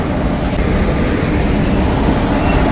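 Steady loud rumble of a passing train, the Coromandel Express overtaking another train near Kharagpur, a continuous roar of wheels and wagons with no pauses.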